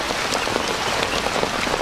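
Steady rain patters densely on a surface close by, a continuous hiss of drops with no voices.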